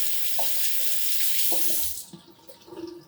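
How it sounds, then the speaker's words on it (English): Tap water runs steadily into a sink during handwashing in a home kitchen, then shuts off after about two seconds, leaving soft clinks and movement sounds. "Let's wash my hands."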